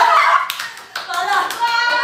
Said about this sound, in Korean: 아 박수 한 번 치고 갈게요!